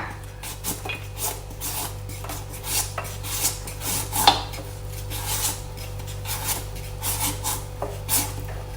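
Green papaya is chopped by hand for som tam, a steady run of close, crisp knife strikes and rasping scrapes repeating several times a second throughout.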